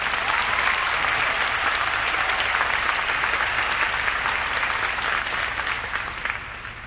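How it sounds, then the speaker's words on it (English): Sustained applause from a large crowd at a high school graduation ceremony, dense and steady throughout, fading slightly toward the end. "give them a round of applause"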